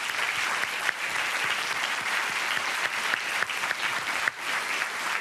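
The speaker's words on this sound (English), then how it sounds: "I just want to give a round of applause to Cunard Films," Continuous audience applause fills a hall at a film screening event, dense even clapping from a large crowd, steady and loud throughout with no break.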